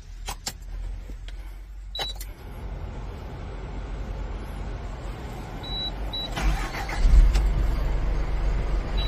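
A fire department emergency vehicle's engine starts and settles into a low idle rumble, preceded by a few clicks and electronic beeps from the cab.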